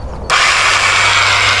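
An electric sander starts abruptly and runs with a loud, steady high whir, powered from an AFERIY Nomad AF-P180 portable power station at an allotment garden; no voices.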